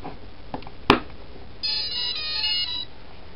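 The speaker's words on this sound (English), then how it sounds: "Now if I plug the battery in, we will hear this noise that we can hear whenever the ESCs are good to go" A quadcopter's electronic speed controllers beep when the battery is plugged in: a sharp connection click, then a short, clear sequence of electronic tones, close and distinct above low background hiss.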